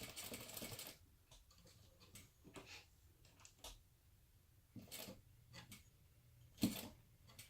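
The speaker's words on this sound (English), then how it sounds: "you're sewing over the pleats here, so make sure that everything's lined up nicely" A sewing machine stitches over pleated fabric for a crossbody bag in short mechanical bursts of rapid ticking, close and moderately loud, broken by brief pauses.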